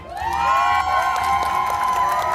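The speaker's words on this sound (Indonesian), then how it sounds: "Supporternya tim mie menjerit." Team supporters at a televised cooking contest cheer and shriek together, a loud sustained crowd roar of high shouting voices lasting throughout.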